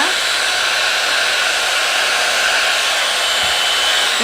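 A Plavogue One Step hair dryer blows steadily on its cool air setting at close range, a loud continuous broadband whoosh with no breaks.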